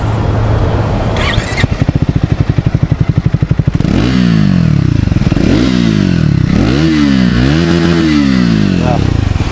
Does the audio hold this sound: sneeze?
no